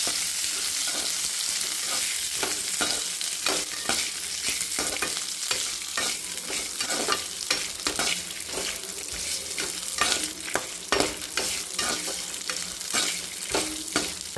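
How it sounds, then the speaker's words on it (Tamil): Red chillies, garlic, coconut and tamarind frying in oil for a horse gram chutney, a constant sizzle punctuated by frequent close scrapes and taps of a spoon stirring in the pan, with no talking. "எண்ணெய் காஞ்சோடனே வரமிளகாய் போட்டுக்கலாம் பூண்டு போட்டுக்கலாம் கொஞ்சம் தேங்காய் புளி எல்லாம் போட்டுக்கலாம்"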